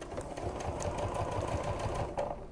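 A sewing machine stitches fabric for a medication bag organizer, running in a steady, continuous chatter with a brief pause near the end, close and moderately loud with no talking.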